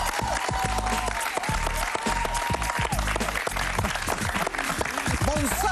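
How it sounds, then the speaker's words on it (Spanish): A studio audience on a television talk show applauds a guest, with clapping blended with loud background music and a voice over it. "Un gran aplauso para Gianmarco"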